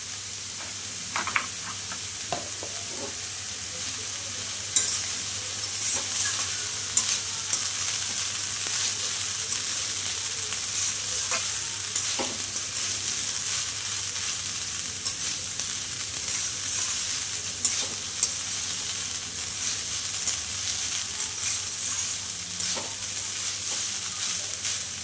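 Grated banana stem fries with turmeric and salt in a pan, a soft, steady sizzle running close and even throughout, with occasional light clicks of stirring over the hiss.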